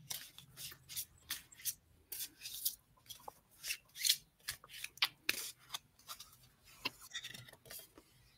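Oracle cards being shuffled and drawn from a deck, with quiet, irregular bursts of papery riffling and sliding, soft and close, with brief pauses between handling sounds.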